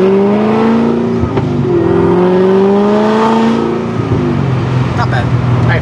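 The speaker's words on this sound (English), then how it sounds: "you can kind of hear how it sounds with pretty free-flowing exhaust" A 2009 Corvette ZR1 with free-flowing exhaust accelerates hard under wide-open throttle, its loud engine note rising through the gears with brief shift dips, heard from inside the car.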